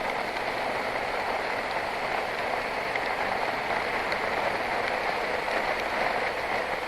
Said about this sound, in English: But rain still keeps getting in,